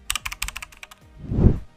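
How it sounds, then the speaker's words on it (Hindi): Computer keyboard keys pressed for the Ctrl+A shortcut: a quick run of about eight close, crisp plastic clicks, followed by a soft, dull thump. "Ctrl+A की दबाइए।"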